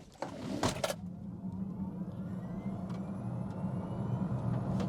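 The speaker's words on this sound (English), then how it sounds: "So I've got the car in sport mode, which gives me maximum power from the electric motors" A 2023 Kia EV6 GT electric car launches at full power in sport mode. A faint, rising motor whine builds over a steady road and tire rumble after a brief clunk at the start.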